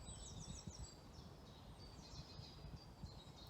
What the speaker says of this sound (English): You can hear them singing and answering, singing and answering.